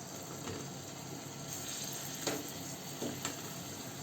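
Raw mango pieces, tomato, garlic cloves and green chillies frying in oil in a pan over high gas, giving a steady soft sizzle with a few faint clicks and scrapes.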